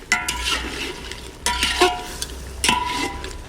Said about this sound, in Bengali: এবার ঢাকাটা তুলে আমি একটু নাড়া দিয়ে দেবো